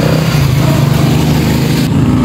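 A motorcycle engine runs steadily nearby, a rough, loud low putter continuing for a couple of seconds.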